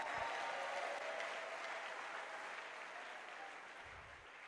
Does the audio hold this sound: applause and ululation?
yes